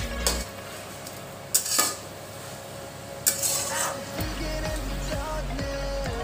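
A spoon stirs Bengali cabbage curry in a pan over a gas flame: metal scrapes and clinks in a few distinct strokes over a low, steady sizzle, close and moderately loud.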